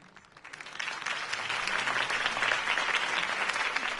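Applause from a crowd builds quickly from quiet and holds as a dense, steady clapping.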